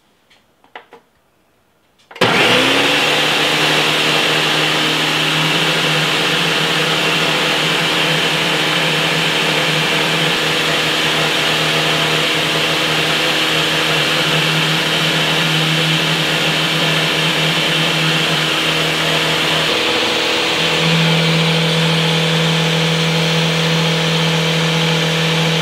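A blender switches on after a short quiet start and runs steadily and loudly for the rest of the stretch, its motor pitch shifting slightly near the end as oil is slowly streamed in; no talking.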